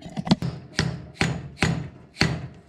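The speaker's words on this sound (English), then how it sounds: "A bit of a tap with the soft blow hammer." Five firm taps of a soft blow hammer seating a part into a rebuilt Toyota 2H power steering pump, evenly spaced, close and dull.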